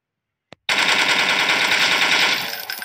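Gunfire in the Deadly Dino dinosaur-hunting video game on Android: a brief single shot, then a loud continuous burst of rapid automatic fire sustained for about two seconds, alone without voices.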